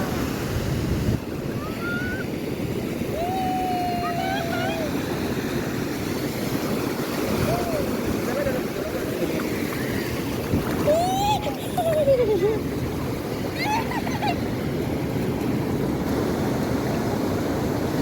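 Sea waves wash onto Kashid beach in a steady, broad surf rush with wind buffeting the microphone, while family members call out and talk over the water.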